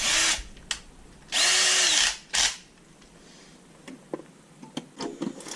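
A power drill boring into a custom inverted pedal set for a Logitech G920 wheel, in three loud close bursts of whirring followed by quiet clicks and light handling noises.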